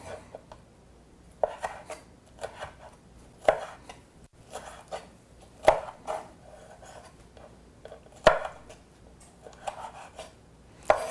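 A knife chops food on a cutting board in a home kitchen, with a steady run of crisp, close taps and occasional louder thuds, broken by short pauses and light scraping.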